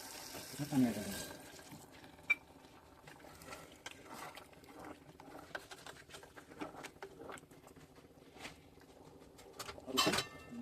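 Water is poured into chicken masala cooking in a pan, making a faint splashing and sizzling patter with scattered soft clicks, quiet and close.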